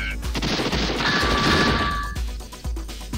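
Rapid gunfire in the SNES/3DO video game Demolition Man, a dense burst of close, loud shots followed by a few scattered single cracks.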